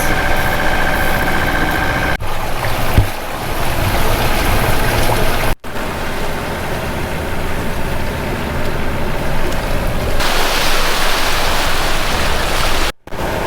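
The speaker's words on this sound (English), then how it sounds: "Unfortunately, we had to put the engine on." A sailboat's engine drones steadily throughout, a constant broadband rumble with wash-like noise, loud and close, with no talking.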